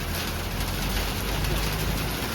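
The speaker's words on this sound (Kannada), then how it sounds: "ಸಖತ್ ಮಳೆ ಬರ್ತಿದೆ." Heavy rain pours down with a constant, dense hiss of drops striking the surfaces all around, unbroken for the whole stretch.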